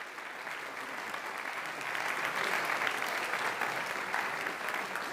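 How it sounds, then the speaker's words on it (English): An audience applauds an MC with steady, dense clapping that swells slightly midway and keeps going throughout, without cheering or talk. "let's give it up for a warm applause for our MC, Joshua Short."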